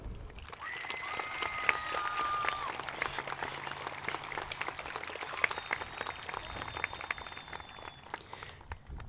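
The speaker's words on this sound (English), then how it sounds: "could we please have a big round of applause?" A graduation ceremony crowd for the class of 2021 breaks into a big, sustained round of applause, dense clapping with a few whistles and cheers rising over it throughout.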